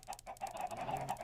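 Minecraft chickens clucking in a crowded pen in the video game, a faint rapid run of overlapping clucks and squawks with no talking.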